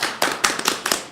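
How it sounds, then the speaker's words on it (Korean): A studio audience claps in a short burst of scattered, sharp hand claps at the start of a Korean comedy-style broadcast show, loud and close, with no talking over it. "자, 박수."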